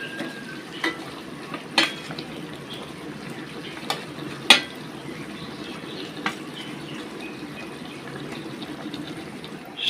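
Fried tilapia pieces go into a simmering papaya curry, giving a quiet steady sizzle and bubbling with a few sharp spoon or pan clicks scattered through it.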